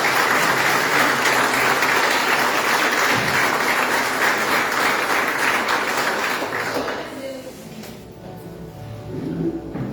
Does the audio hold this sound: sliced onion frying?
no